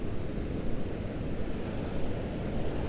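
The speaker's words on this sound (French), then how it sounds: "il y a des bonnes vagues aujourd'hui" Ocean waves wash onto a beach in a steady, unbroken roar, mixed with gusty wind rumbling against the microphone.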